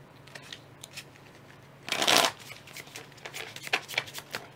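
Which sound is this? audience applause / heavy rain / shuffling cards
shuffling cards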